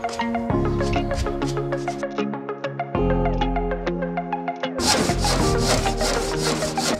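Wood pieces for an aquarium build are cut with a hand saw and sanded, giving steady rhythmic rasping strokes, close and loud, that shift in pace and grow harsher partway through. No talk is heard; faint background music plays underneath.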